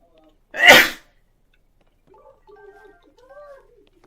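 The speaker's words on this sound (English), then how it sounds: "That was actually funny for how I timed that sneeze." A single sharp, loud human sneeze bursts out near the mic, followed by faint tonal video game sounds from The Legend of Zelda: Tears of the Kingdom.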